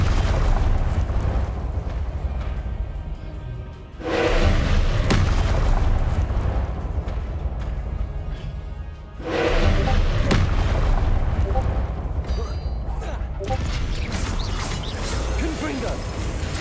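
Confringo explosive spell blasts in the Hogwarts Legacy video game, heavy booming bursts that swell into long rumbling roars, separated by brief dips, loud and close over a dense mechanical game din.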